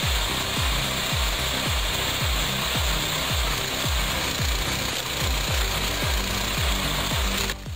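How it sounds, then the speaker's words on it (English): A log splitter works on wood with a loud, fast machine rumble and a rapid stream of regular repeating knocks, continuous and close, stopping at the very end. "The Ginnick splitter can split 25 logs in just 3 minutes."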